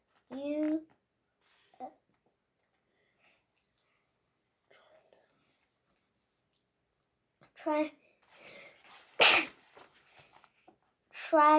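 A single sharp, loud human sneeze bursts out near the microphone amid quiet whispered and spoken voices.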